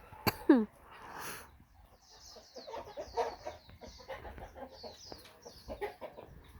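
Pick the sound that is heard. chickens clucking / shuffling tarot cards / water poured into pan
chickens clucking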